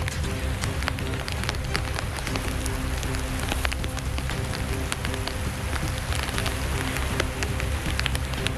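Steady rain falling outdoors near a tree, a dense continuous patter of drops filling the whole stretch at an even level, with no voices.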